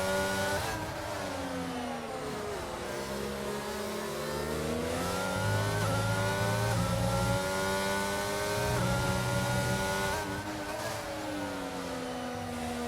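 Race cars in a sim racing game on a French circuit scream past with high, rising and falling engine revs from several cars overlapping, loud and continuous throughout.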